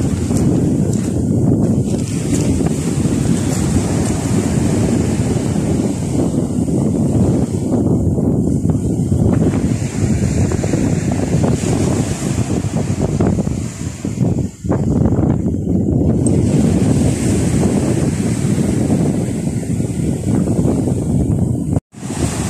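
Strong evening wind in Gagra, Abkhazia, roars steadily against the microphone for the whole stretch, a loud, buffeting rumble with gusts rising and falling, and no voices.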